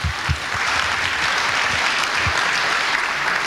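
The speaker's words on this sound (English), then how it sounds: "I think we ought to give Alan a big round of applause" A crowd applauds steadily throughout, dense clapping at a consistent loud level with no voices standing out.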